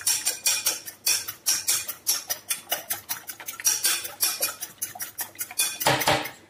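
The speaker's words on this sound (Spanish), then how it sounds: "Vamos a coger un tenedor. Y los vamos a batir." A fork beats ingredients for a vegetable and chicken quiche in a dish, giving a fast, regular run of close, crisp metallic clicks and taps against the bowl, with no talking.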